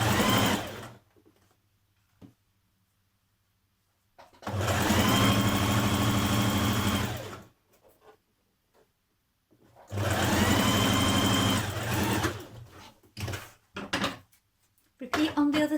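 A sewing machine stitches a jumpsuit seam with a 1.5 cm seam allowance, running in two long, steady, whirring bursts separated by quiet pauses, with handling clicks in between.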